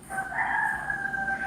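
A rooster crows in one long, drawn-out call with clear harmonic tones in Syria, heard over a steady low hum of a fan in the room.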